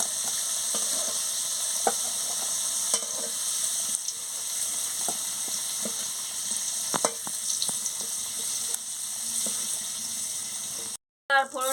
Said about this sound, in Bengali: ভালো করে কুমড়োটাকে আমি ভেজে নিচ্ছি